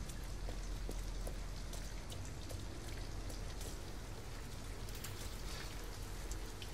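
Steady rain falling in the video game Detroit: Become Human, an even, moderately faint hiss of drops on surfaces with scattered ticks, continuous and without talk.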